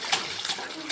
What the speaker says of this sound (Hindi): पानी शुरू हो गया।